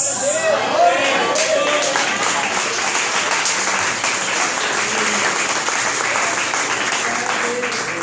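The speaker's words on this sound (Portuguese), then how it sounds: "é uma salva de palmas, glória a Deus, maravilhoso." Sustained loud applause from a large church congregation, steady and dense throughout, with some voices mixed into the clapping.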